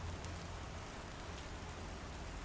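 Rain falling in a video game, a steady, even hiss of dense drops, faint and continuous with no other sounds over it.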